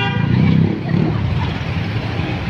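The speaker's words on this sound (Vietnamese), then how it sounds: "Kẹt xe luôn rồi, xe du lịch nhiều quá, xe lớn và xe nhỏ nhiều quá." Congested road traffic jammed with many large tour buses and small cars, a steady engine rumble with brief horn toots near the start, heard close and loud throughout.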